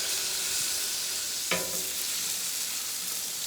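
A burger patty is smashed onto a hot griddle, giving one soft thud over a constant bright sizzle of frying meat that carries on evenly afterward, close and without voices.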